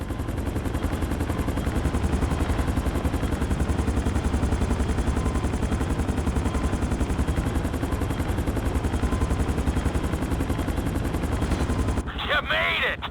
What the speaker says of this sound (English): Bring the helicopter down gently onto the helipad